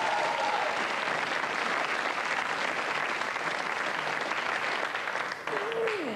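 A studio audience claps loudly and steadily throughout, with a voice briefly heard over the applause near the start and end.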